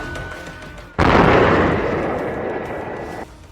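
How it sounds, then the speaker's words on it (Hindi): A controlled blast demolishes the opening of an illegal coal mine in Jharkhand, a single sudden loud boom followed by a long roaring, rumbling tail that fades over a couple of seconds. "अवैध कोयला मुहाने में हो रहा कंट्रोल्ड विस्फोट"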